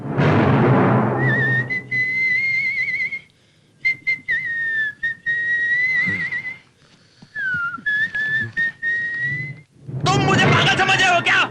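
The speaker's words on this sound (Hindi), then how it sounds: "तुम जो गाना बताओगे वही सीटी बजाऊंगा।" A man whistles a film song, a bright wavering melody in short phrases broken by pauses, close and loud, with music swelling at the end.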